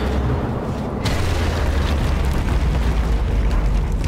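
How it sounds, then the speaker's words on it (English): A bridge blown apart at the Regilino Viaduct in Sniper Elite 4 makes a loud, sustained booming roar: a dense, rumbling blast wash that keeps going without letting up. "Blow this bridge into fucking next year, boys and girls."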